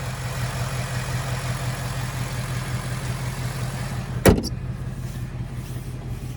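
The hood of a 2025 Ford Mustang GT Premium with a 5-liter V8 shuts with a single firm, close thud over a steady idling engine hum, followed by a faint short rattle.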